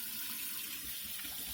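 Hot water runs from a tap at full heat into a sink, a soft, steady hiss and trickle heard close by with nothing else over it.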